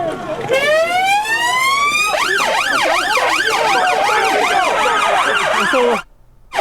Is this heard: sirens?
yes